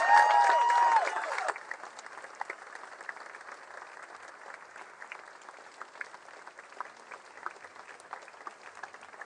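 A crowd at a vigil for the victims of the Dayton mass shooting bursts into loud applause that quickly fades to scattered, lingering claps from a large outdoor gathering.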